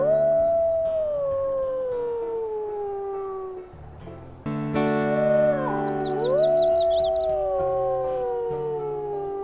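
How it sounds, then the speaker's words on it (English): A wolf howls in a wolf survival video game, long sliding howls rising and falling, with a second overlapping howl joining midway, close and clear over a soft ambient music bed. "Let's go ahead and howl."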